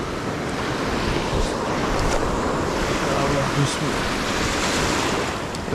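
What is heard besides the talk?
wind blowing on Black Sea shore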